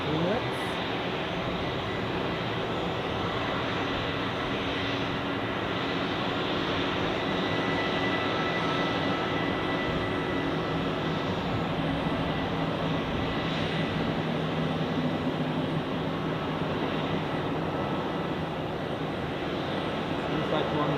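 A Swiss Airbus A321 jet takes off at Zurich Airport, producing a continuous broad engine roar that holds at a steady loud level throughout with no breaks, with radio-style talk heard over it.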